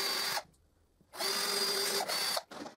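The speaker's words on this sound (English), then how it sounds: "Then I drill a couple of guide holes." A power drill whirs in two bursts, about a second each, drilling guide holes in wood, with a short quiet gap between and a brief spin-up at the end.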